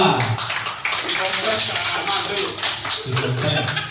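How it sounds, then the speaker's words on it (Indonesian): Classroom applause for a student group, a dense patter of many hands clapping with voices mixed in throughout. "Tepuk tangan untuk kelompok 2"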